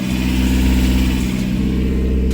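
A mini truck engine idling through a custom welded exhaust with a leak at a clamp, a close, steady low rumble with a throaty pulse and no talk.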